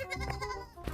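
A goat lets out a single short, wavering bleat, close and fairly quiet, lasting under a second.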